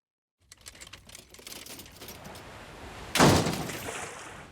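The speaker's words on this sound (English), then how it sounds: "Can you open the sliding door?" A sliding door in a Family Guy cartoon scene rattles with a series of quick clacks and scrapes, then ends in a loud heavy slam or crash that trails off into clatter.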